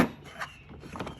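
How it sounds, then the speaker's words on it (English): A metal drawer in a budget starter mechanic tool set slides and rattles briefly, with a soft knock at the start and a couple of light scraping clicks, heard close and alone. "So you have to take the whole drawer out in order to access anything."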